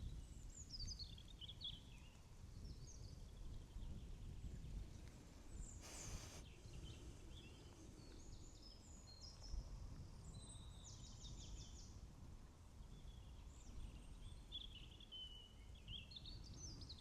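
Scattered bird calls and chirps in a forest near a flowing spring, faint and intermittent over a low steady background rumble, with no voices.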